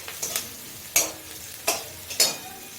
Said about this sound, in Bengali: আমি এখানে পেঁয়াজটা বেশি ভাজবো না, জাস্ট একটু পেঁয়াজটা নরম হবে